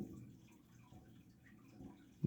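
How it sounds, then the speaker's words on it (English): An aquarium in a bedroom gives off a faint, continuous low trickling and bubbling of water, quiet and steady with a slight bump at the very end. "If you hear that water noise, I'm in my sister's room. She has an aquarium."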